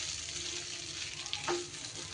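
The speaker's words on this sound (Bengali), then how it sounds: "এইবার লো ফ্লেমেই পুরোটা ভালো করে মিশিয়ে নেব" Fried rice with cashews and raisins, pre-fried potato and pointed gourd sizzles gently in a pan on low flame while being stirred, with one brief scrape midway and no voices.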